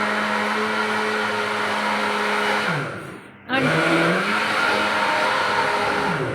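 An electric grinder churning butter whirs loudly and steadily, briefly slows and dips in pitch, then surges back to full speed close by.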